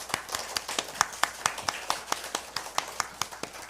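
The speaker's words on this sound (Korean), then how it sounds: "두 분 우리 자 일어서 주시면 뜨거운 박수로 환영하도록 하겠습니다" A church congregation claps in welcome at a Sunday service, a quick, fairly even series of crisp hand claps at a moderate distance, with a faint murmur of voices beneath.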